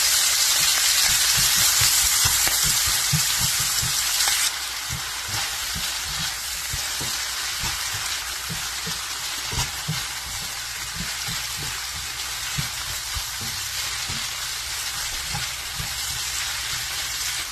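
Garlic and onions fry in rendered Italian sausage fat, giving a steady loud sizzle with scattered crackles and pops close up, and the hiss eases slightly after the first few seconds.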